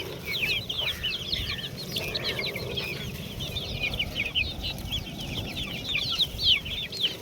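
A flock of free-range village chickens and multicoloured guinea fowl clucking continuously in the hot midday sun, with many overlapping chirps and clucks over a steady outdoor hum.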